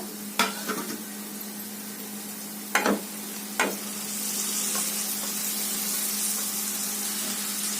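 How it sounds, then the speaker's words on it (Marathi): Cluster beans (gavar) drop into a pan of sautéed masala and cook, with a few loud spatula scrapes and clatters early, then a rising steady sizzle that fills the rest; no speech. "आता त्यामध्ये आपण गवार घालूया."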